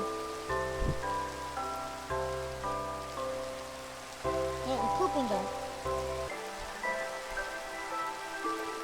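Rain falling in the video game Minecraft, a soft steady patter beneath game music notes and brief talk.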